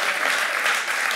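Studio audience applause on a television comedy talk show, a brief burst of steady, dense clapping heard on its own.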